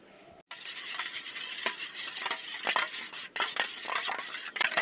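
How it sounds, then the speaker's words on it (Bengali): Two eggs with salt are whisked briskly in a bowl, a continuous scraping, clinking rattle of utensil against the dish that runs unbroken and close after a brief quiet start. "ডিম দুটো ভালো করে ফেটানো হয়ে গেছে"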